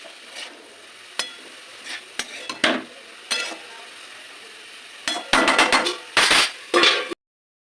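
Vegetables are stirred in a pan with salt, bringing sharp scrapes and metallic clinks of a utensil against the pan over a faint sizzle, scattered at first and then in a busier cluster.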